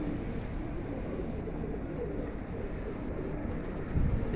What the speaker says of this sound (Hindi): देख लें ये सारे कबूतर हैं